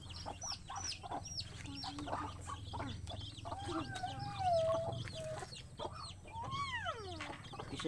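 Chickens clucking and calling nearby in a farmyard among pet ducks and pigeons, with repeated short clucks and rising squawks over a low background, faint and without talk.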